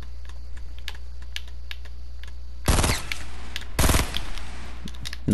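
Two short bursts of rapid automatic gunfire from a Fortnite: Battle Royale match crackle loudly over a steady low hum, with faint clicking between them.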